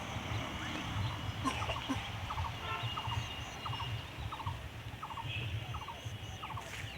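Ducks quack in a steady run of short repeated calls near a paddy field, the bursts coming about every half second over a constant low outdoor background.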